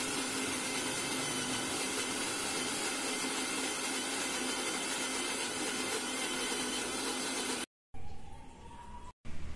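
A wet grinder churns soaked urad dal into idli batter, giving a loud, steady whirring rumble that runs nonstop for several seconds before cutting out briefly, with a quieter hum between two short silences.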